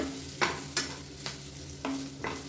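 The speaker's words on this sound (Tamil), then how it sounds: "இந்த மசாலா எல்லா பீன்ஸ்லேயும் படுற மாதிரி பரட்டி விட்டுட்டு திருப்பி மூடி வச்சிடலாம்" Green beans coated in coconut masala are stirred in a pan over a soft sizzle, with about five distinct scraping strokes of the spoon, close by.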